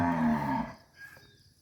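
A cow gives one loud, close moo that swells and then tails off into quiet, with a faint second low call near the end.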